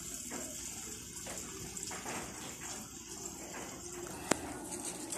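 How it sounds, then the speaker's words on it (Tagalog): Water runs steadily into a pan while sweet and sour fish is cooked, a continuous soft splashing stream with a brief sharp clink near the end. "Butangan na to og tubig."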